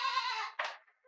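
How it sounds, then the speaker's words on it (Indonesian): Goats on a goat farm let out a close, fairly quiet bleat with a short second call trailing after it, heard alone. "udah kedengeran suara oe oe, tapi bukan suara bayi, tapi suara kambing"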